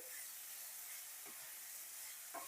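Vegetables fry gently in ghee for fried rice, giving a soft, steady sizzle and hiss with a couple of faint stirring scrapes, heard quietly with no talking.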